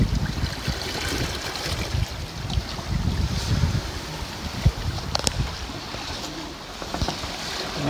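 Wind rushing steadily over a sailboat at sea in about 15 knots of breeze, a broad noisy wash mixed with water splashing along the hull and a few sharp creaks or clicks, continuous and fairly close.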